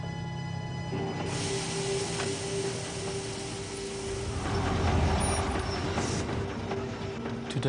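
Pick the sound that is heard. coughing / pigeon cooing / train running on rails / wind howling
train running on rails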